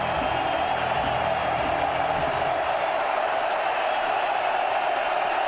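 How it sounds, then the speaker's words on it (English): A football stadium crowd at a Montana versus Weber State college game keeps up a dense, continuous roar throughout, loud and unbroken with no clear peaks. "The crowd revs up the noise"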